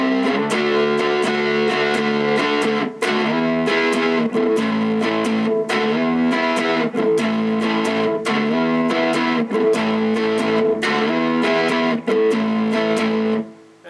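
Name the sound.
electric guitar playing post-chorus of a song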